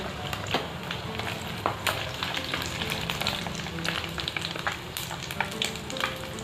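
Fish deep-frying in hot oil with turmeric and herbs, a dense steady crackle with sharp spitting pops, fairly quiet and without voices.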